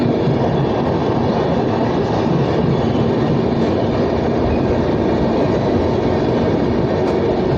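A train on the Coochbehar to Kolkata run rumbles along continuously, a loud, close, steady roar of wheels and carriage with no break and no talk.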